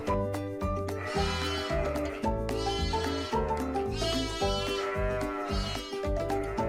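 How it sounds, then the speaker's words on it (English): Sheep in a farm flock with lambs bleat several times over steady rhythmic background music, the calls clear and fairly prominent. "I hear a sheep."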